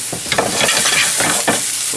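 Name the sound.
eggplant slices sauteing in a pan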